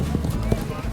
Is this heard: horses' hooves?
yes